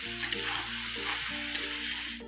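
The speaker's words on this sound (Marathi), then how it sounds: "तर आता आपला भाज्या सर्व आपल्या फ्राय करून झालेल्या आहेत" Mixed vegetables for veg fried rice stir-frying in a hot pan, a loud continuous sizzle close by with soft scraping strokes of stirring throughout.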